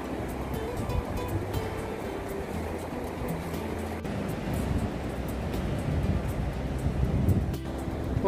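Sea waves wash steadily onto a cold winter shore as the tide starts to come in, a continuous broad surf roar with light wind buffeting the microphone.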